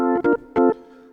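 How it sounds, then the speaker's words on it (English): Hammond organ tones from a Korg Kronos CX3, a mellow jazz comping groove on the lower manual: two short sustained chords stabbed in rhythm over a held tone, clear and close, with no talking. "So this is a mellow kind of groove that you could play on the lower manual of the Hammond organ."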